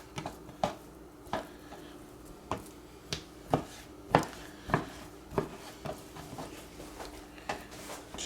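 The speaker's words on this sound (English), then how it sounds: "we're gonna go ahead and just chop these up" Vegetables chopped on a cutting board for Hawaiian chicken, a steady run of crisp, close knife thuds spaced about half a second apart, with no talking.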